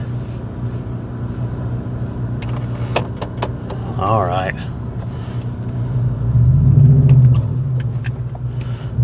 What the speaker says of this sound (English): What's this truck doing?